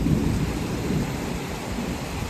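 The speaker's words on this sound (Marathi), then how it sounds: "आणि गडगडाट पण चालू झाली बाबा" Thunder rumbles low and continuous through heavy rain during a Konkan rainstorm, with a steady wash of rainfall close by and no talking.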